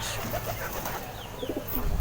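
A racing pigeon coos softly inside a loft, giving a few low, murmuring calls over faint background noise, with brief chirps from other birds nearby.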